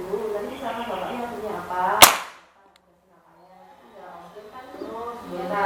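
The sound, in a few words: air rifle shot (big game air gun)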